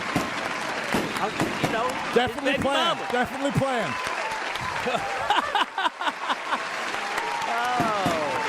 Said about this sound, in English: More crowd noise, please.